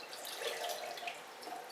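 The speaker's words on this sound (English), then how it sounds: "I'm going to put the glaze on the inside, like that" Liquid glaze pours into a bone-dry ceramic pot in a pottery studio, a steady, close trickling and splashing stream with no talk.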